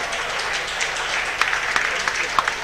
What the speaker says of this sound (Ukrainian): Ваші аплодисменти бойцам.